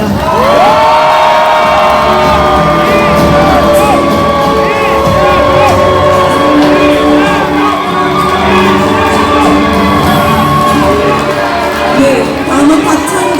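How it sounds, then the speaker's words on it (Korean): A crowd at a political rally in Gyeongbuk cheers, shouts and whoops loudly and continuously to welcome a party leader, with scattered applause mixed into the dense roar. "뜨거운 박수로 환영해 주십시오."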